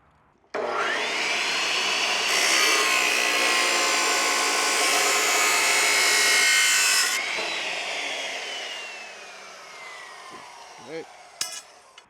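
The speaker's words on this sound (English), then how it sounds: "this cutoff wheel, cutoff saw, chop saw, whatever you want to call it, will throw a breaker" A cutoff chop saw spins up with a rising whine, then grinds loudly through metal for several seconds and winds down with a falling tone, heard close, followed by a few faint clanks.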